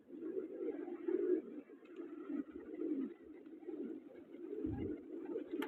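Kept pigeons coo softly in repeated throaty rounds, a low, faint, steady murmur from several birds nearby with no talking over it.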